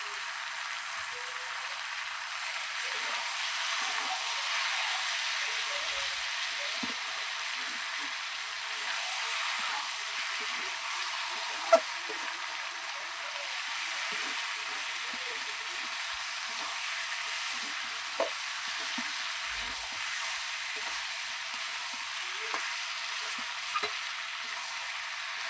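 Chicken with tomatoes sautés in a pan with a steady, close sizzle and crackle that keeps a fairly even level throughout, with faint scattered pops and no talk.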